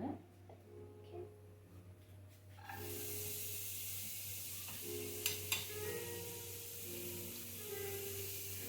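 Onion dropped into a hot pan for a beginner's lasagna bursts into a steady hiss and sizzle after quiet kitchen sounds and a background hum, with a couple of sharp clicks along the way.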